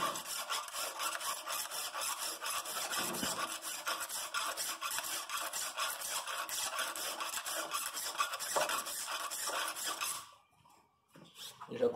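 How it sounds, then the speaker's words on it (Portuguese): A hoe file rasps against a knife guard held in a file guide, fast continuous back-and-forth scraping strokes, close and steady, then briefly stopping near the end before one more stroke starts. "eu posso fazer também com uma lima de enxada e usando um guia de lima"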